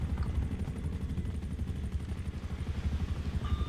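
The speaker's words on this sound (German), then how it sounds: "Hubschrauber kommt. Hubschrauber kommt. Hubschrauber." Helicopter approaching in GTA Online, a close, loud, rapid rotor thumping that pulses steadily throughout with no voices.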